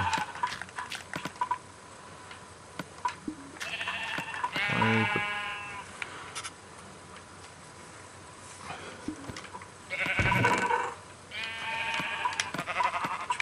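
A sheep bleats in a house, with two loud, drawn-out calls about five seconds apart, each wavering through several pulses, over a low, steady indoor background with faint scattered clicks.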